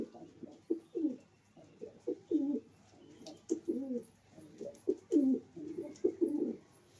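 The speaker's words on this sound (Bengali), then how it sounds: "আপনাদের সামনে আমি একটা কবুতর নিয়ে আনলাম" A pigeon coos repeatedly up close, low throaty warbling calls coming in a steady series of rounded bursts against a quiet room.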